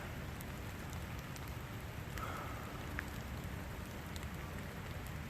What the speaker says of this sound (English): Cold and rainy, but beautiful nonetheless.